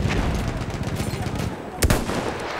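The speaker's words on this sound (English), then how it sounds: "Hey, please stop firing at me." Battlefield 1 gunfire crackles in rapid, uneven bursts of close and distant shots, with one sharp, loud report standing out near the end amid the clatter of battle.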